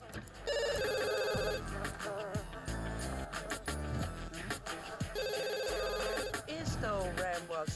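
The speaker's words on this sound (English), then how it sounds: "Now let's actually answer the phone and see who's so stubborn." Telephone ringing in The Sims 2 video game, two electronic ring bursts repeating over game music and sound effects, fairly loud and close.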